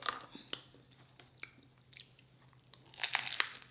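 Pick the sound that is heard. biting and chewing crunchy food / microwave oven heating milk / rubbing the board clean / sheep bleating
biting and chewing crunchy food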